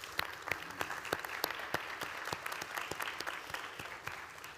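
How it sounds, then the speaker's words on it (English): A graduation audience gives a big round of applause, many hands clapping in a steady, dense wash with sharp individual claps standing out, moderately distant and without talk. "join me, students, in giving them a big round of applause"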